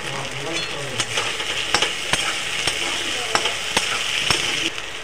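Spiced masala with chilli powder frying and being stirred in a pan for a Bengali hilsa fish curry with taro, a steady close sizzle broken by repeated sharp scrapes and clicks of the spatula.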